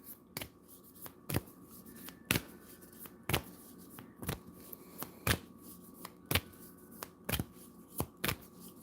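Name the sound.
shuffling shamanic oracle cards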